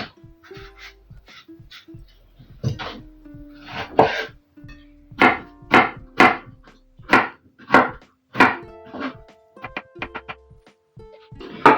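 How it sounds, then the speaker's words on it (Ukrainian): Knife slicing fresh cucumber into thin matchstick strips on a board, a run of crisp, evenly spaced cuts, close and fairly loud, with no talking. "Огірок свіжий. Теж нарізаю соломкою."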